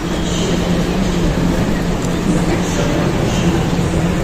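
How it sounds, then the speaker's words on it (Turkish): Busy ambience inside Warsaw Central train station: a steady low rumble and hum of a large modern hall, with faint indistinct activity throughout and no clear voices. "Merkez tren istasyonu burası."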